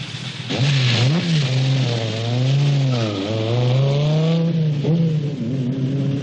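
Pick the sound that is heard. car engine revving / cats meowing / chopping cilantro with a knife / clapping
car engine revving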